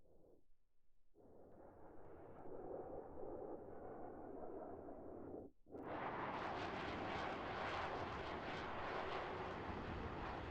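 Jet aircraft engines from Flaming Cliffs jets flying in formation in a flight simulator, a steady loud roar that briefly drops out, then returns broader and louder, with no talking.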